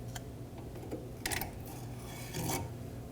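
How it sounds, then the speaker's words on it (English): A spring clip on the bellows boot of a 2014-2023 Ford Transit Connect inner tie rod is worked off with needle nose pliers, giving a few scraping, rasping metal sounds up close over a steady low hum. "Remove this using some needle nose pliers."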